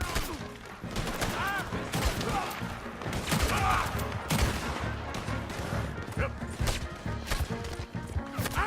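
Dense gunfire from a shootout in Red Dead Redemption 2, rapid overlapping shots and impacts with shouting voices mixed in, loud and continuous throughout.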